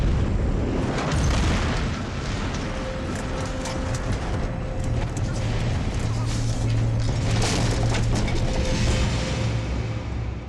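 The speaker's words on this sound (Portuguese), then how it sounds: "O avião se despedaça com o impacto." An airplane crashing and breaking apart: a loud, sustained roar of crashing and tearing metal, dense rumbling debris with sharp impacts scattered throughout, continuous and chaotic.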